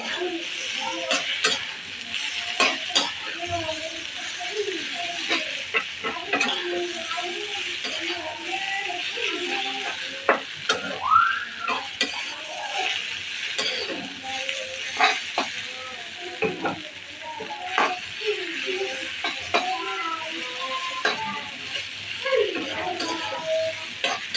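Eggs frying in a pan, a continuous close sizzle with scattered crackles and stirring taps across the whole stretch, with faint background chatter at times.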